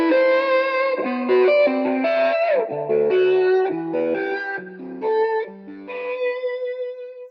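Distorted electric guitar plays a series of triad arpeggios in a 1, 5, 3 note order, each pattern shifting through the chord shapes.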